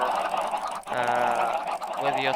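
Minecraft chickens cluck in loud, close, overlapping calls that fill the whole stretch, with a brief dip partway through.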